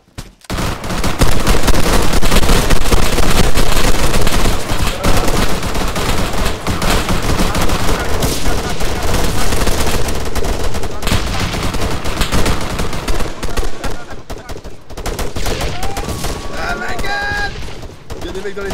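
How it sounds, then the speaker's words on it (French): Sustained bursts of assault-rifle fire in ArmA 3 as rebels are shot at, magazines emptied in loud, dense volleys that run nearly the whole time, with a voice occasionally over the shooting. "de mettre en joue tous ces rebelles et de vider leur putain de chargeur"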